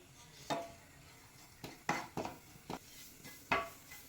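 Half a cup of grated coconut is stirred and dry-roasted in a pan for ragi kozhukattai, giving about half a dozen faint, separate scraping strokes of a spoon against the pan in a quiet setting, with no talk.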